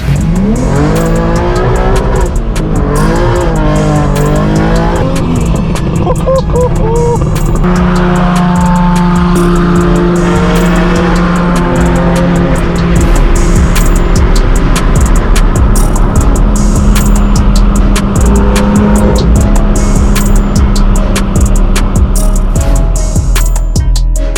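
A straight-piped BMW M4 G82 with a loud exhaust revs hard at a large car meet in LA, its engine rising and falling in long, blaring pulls close by, with tire squeal and other engine noise around it.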